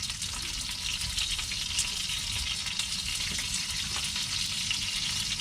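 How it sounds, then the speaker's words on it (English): A full skillet of wontons frying while cooking in an RV, a steady close crackling sizzle that continues evenly throughout with no talking. "We've got a full pan of wonton cooking."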